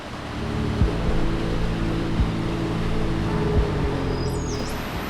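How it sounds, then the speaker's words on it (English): A small waterfall pours beside a backpacking trail in Shenandoah National Park, giving a steady, full rushing wash close by with a low hum running underneath. "There's a little waterfall here."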